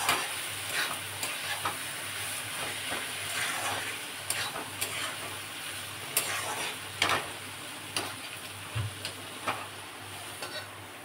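Snake gourd frying in oil in a home kitchen pan, stirred with a utensil: a steady close sizzle with scattered scraping clicks and taps throughout, no talking.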